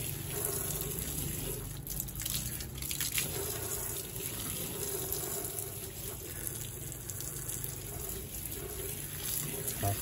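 Running tap water rinsing a fabric lampshade, a steady close splashing and gurgling stream that continues evenly for the whole stretch, with no voices.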